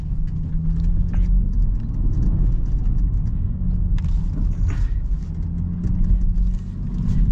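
A 2024 Land Rover Defender grinds up a steep off-road trail with all wheels spinning, its engine a steady, loud, close rumble throughout with no talking.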